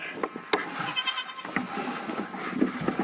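Several goat kids bleating up close while being bottle-fed powdered milk, their short, overlapping cries repeating irregularly over faint shuffling and handling noises.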